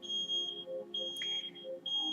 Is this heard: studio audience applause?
no